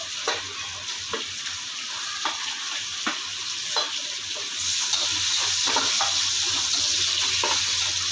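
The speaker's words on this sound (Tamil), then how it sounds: "மசாலா நல்லா பொரிஞ்சிருச்சு இப்போ வெங்காயம் போட்டுக்கலாம்" Whole spices and then onions frying in hot oil for manti biriyani, a continuous sizzle with occasional stirring scrapes, growing louder and brighter about halfway through as the onions go in.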